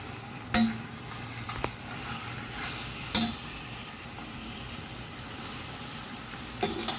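Chicken wings sautéing in soy sauce in a pan, a low steady sizzle with occasional sharp clinks of a utensil against the pan as they are stirred.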